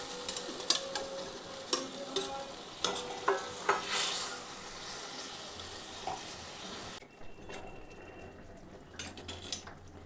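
Fish going into a pan with water for a pomfret jhal curry: clattering handling and stirring sounds with bursts of sizzle and watery splashing, fairly quiet, then a duller bubbling stretch near the end.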